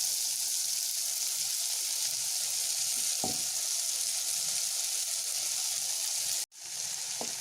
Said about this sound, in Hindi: अब इसमें ये कटा हुआ पालक डाल देंगे।